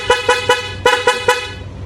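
Loud aftermarket horn on a Yamaha Aerox V1 scooter, part of a dual horn setup, gives six short, sharp toots in quick succession, with a brief pause partway through, close and bright.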